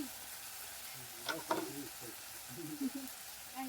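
Spice paste (masala) sizzles steadily in hot oil while being cooked down for a Bengali fish curry, with a few sharp clinks of stirring near the middle and a soft, constant crackle throughout.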